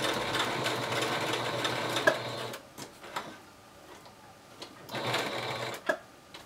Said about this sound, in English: Do about 5 stitches down, back up, 5 stitches back down